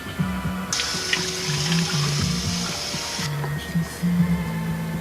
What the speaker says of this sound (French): Il se lave le visage.